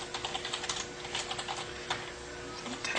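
Rapid, close keystrokes tap out text on a computer keyboard in a quiet room, a continuous run of light clicks with no voice over them.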